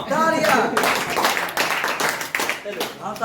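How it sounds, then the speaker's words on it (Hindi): A classroom of students claps for a classmate during a physics lesson, uneven bursts of hand claps mingled with children's voices and chatter, fairly close and lively. "वीर के लिए तालियां"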